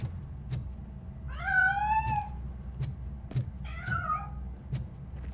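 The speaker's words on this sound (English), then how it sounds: "That cat must be hiding inside." In the video game RoboCop: Rogue City, a cat escaping from a piano gives two drawn-out, clear meows, the first longer, set against a low hum and scattered sharp ticks.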